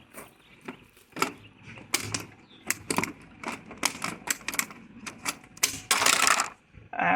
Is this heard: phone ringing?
no